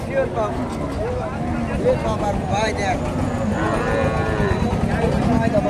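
Sahiwal bull calf and cows at a cattle market in Naogaon, with lowing moos rising over busy crowd chatter and market noise, people talking close by throughout.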